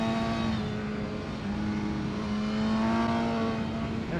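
A sportbike on the Ridge Motorsports Park race track holds a steady, loud engine note while engine braking, with a continuous droning whine and no pauses throughout.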